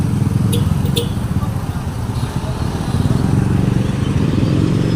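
Loud, close road traffic with engines droning and revving, motorcycles passing, and a couple of sharp metallic clicks early on.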